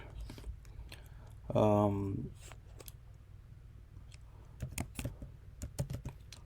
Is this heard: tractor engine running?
no